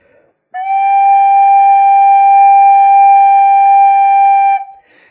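A side-blown spirit flute holds a single steady note at constant breath pressure for about four seconds, loud and close, with a pure even tone, a clean onset and a soft breathy release, alone without talk.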